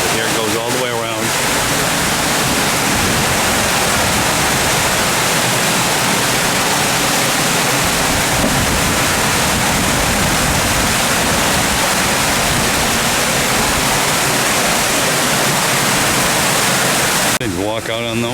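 Water spills steadily down the small steps of a memorial fountain in Taiwan, a loud, continuous rushing wash close by that runs the whole time without a break.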